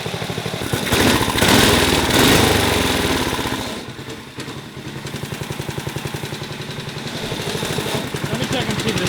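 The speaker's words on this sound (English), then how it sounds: "New carburetor is installed. Fired up." A small Tecumseh single-cylinder engine on a junkyard go-kart runs loud and close on a newly installed carburetor. It revs roughly, then settles into a fast, pulsing putter at idle, with voices talking over it.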